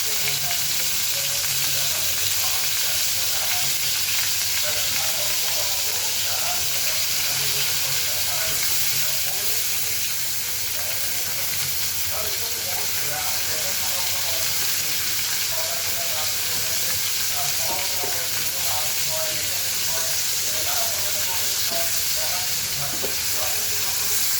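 A chicken steak fries in butter in a pan, producing a loud, continuous close-up sizzle with steady hiss and scattered small pops throughout, with no distinct talking.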